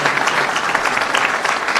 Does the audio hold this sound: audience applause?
yes